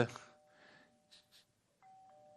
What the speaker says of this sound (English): Gee whiz, you think he'd stop ringing my front doorbell?